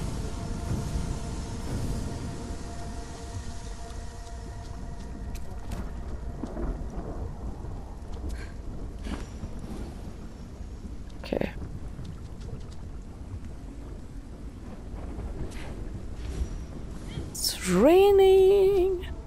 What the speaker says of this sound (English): I think this is the first time we have rain in this game.